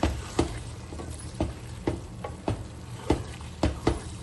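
Keema mince and potatoes fry in oil in a pan, a steady close sizzle with regular scraping stirs roughly every half second, no voices.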